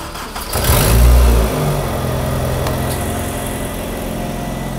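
A VAZ-2109 hatchback engine cranks and catches, surging to a loud rev before settling into a steady, rough idle close by.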